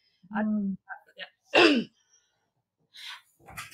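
A few scattered coughs and throat clearings from an audience at a live event in a quiet room, short bursts separated by silence, one louder cough in the middle.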